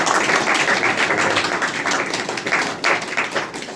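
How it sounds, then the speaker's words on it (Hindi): An audience at a church gathering claps to welcome guests, a loud, fairly even stream of many hands with a few sharper individual claps standing out, close by and continuous. "चलिए ये लोग के लिए भी हम लोग ताली बजा करके जो है स्वागत कर सकते हैं।"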